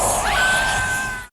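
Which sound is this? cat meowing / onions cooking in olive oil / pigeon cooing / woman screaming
woman screaming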